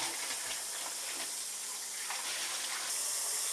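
Water runs steadily from a tap into a sink, a constant bright splashing rush without pause.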